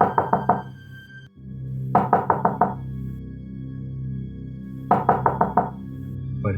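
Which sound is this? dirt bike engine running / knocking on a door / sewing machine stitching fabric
knocking on a door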